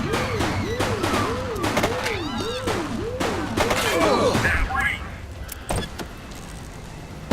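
Gunfire in The Precinct, a police video game, sounds as a burst of rapid sharp shots over a looping police siren and traffic noise, followed by a few scattered later bangs.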